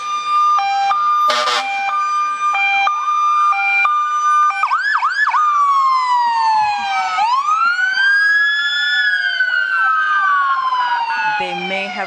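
Fire truck sirens wail loud and continuous as emergency vehicles roll past in a small-town festival parade, rising and falling tones layered with a short blast of horn, close and dominating throughout.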